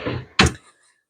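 A drawer in a hospital loss room slides open with a brief rolling rumble, then a single solid thunk as it stops, close by and followed by quiet.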